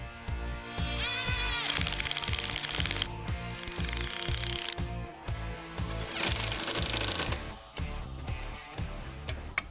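Bolts on the rear sway bar of a Trans Am's new rear suspension are driven tight with a power tool, giving two long bursts of loud, continuous ratcheting and whirring close by, with short clanks in between and no talk.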